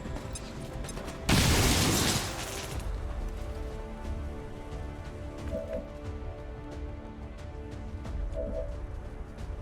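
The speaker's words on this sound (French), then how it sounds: "Explosion!" An explosion in the video game XCOM 2 bursts as a single loud blast that rumbles briefly and then settles into a low background of game ambience.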